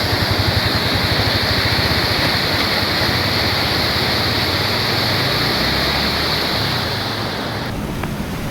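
Strong current of the Montalban river in flood, a loud, steady roar of rushing water close by, continuous and dense with wind buffeting the microphone, easing slightly near the end.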